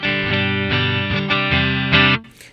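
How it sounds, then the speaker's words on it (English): Electric guitar played through the clean channel of a Rev 100R amplifier, a run of sustained, ringing strummed chords with steady loudness that cuts off and fades at the end, no talking. "to give you an idea of what the clean channel sounds like this"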